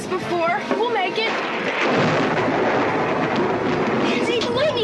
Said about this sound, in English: the lightning, it hit us.